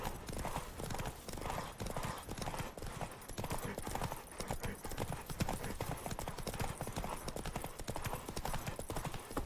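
Rapid, rhythmic hoofbeats of a galloping horse in The Witcher 3: Wild Hunt, steady and continuous, with a faint background of game ambience.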